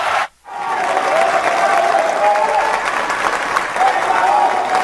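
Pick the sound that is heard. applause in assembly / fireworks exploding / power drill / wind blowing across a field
applause in assembly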